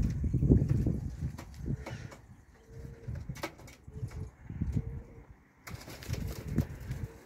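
Domestic pigeons coo in a loft or coop, soft low repeated calls close by with occasional wing flutters and rustling between them, no talk.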